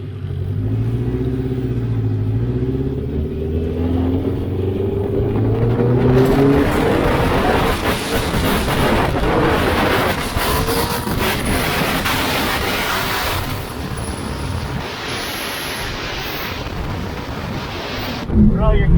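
Honda S2000 on a dyno, engine revving hard through loud sustained pulls with rising whine, clutch slipping so revs climb without load; continuous roaring close by, ending in a brief burst.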